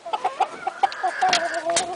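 White Silkie rooster and hen clucking close by, a run of short soft clucks and chirpy calls with a couple of sharper squawks near the end, no talking.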